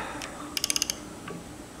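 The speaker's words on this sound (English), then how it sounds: "Torque these to 90 foot-pounds." A torque wrench tightening cap bolts on a Dana 8.75 axle, giving a quick run of about six sharp ratchet clicks close by, then a faint knock, with no talk.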